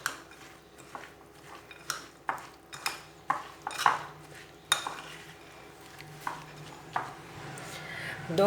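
A spoon scrapes and knocks against a pot while rice flour is mixed into a jaggery and peanut sweet, giving a series of irregular metallic clinks and scrapes, fairly close and alone.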